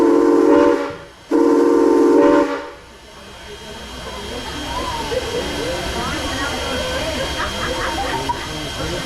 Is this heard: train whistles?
yes